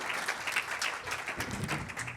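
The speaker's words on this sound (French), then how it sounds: "Applaudissez, Monsieur le Ministre, pour tout le travail accompli, s'il vous plaît." An audience applauds a government minister at a French-language public interview event, a brief, fairly quiet patter of many hands clapping with no clear talk over it.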